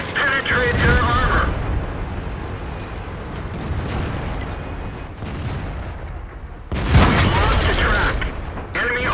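A Japanese Heavy Tank No. VI (Tiger) in World of Tanks fires its cannon with heavy booms and rumbling engine noise, a loud blast opening the stretch and another near the end, with continuous battle roar between.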